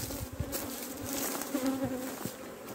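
A swarm of honey bees buzzes around beehive frames, a close, continuous hum with individual wingbeats rising and fading, heard alone without talk.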